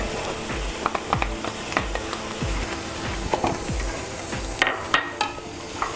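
Chana dal hits hot oil in a pan while tempering for a Telugu moringa-leaf and coconut fry, giving a steady close sizzle with scattered sharp pops and clicks of spoon and pan.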